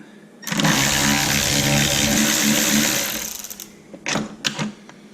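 A ratchet turning a 5/16 socket while removing the driver-side battery from a 6.0 Powerstroke truck gives a loud, steady mechanical whir for about two and a half seconds, followed by a few short clicking bursts.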